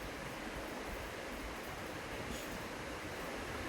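A Malangad ropeway car rolls into its station with a steady, dense mechanical rumble and hiss, even and unbroken from start to end, faint overall.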